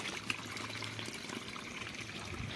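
Water flows steadily from an opened valve pipe on a farm, a soft continuous trickling rush with no talk over it.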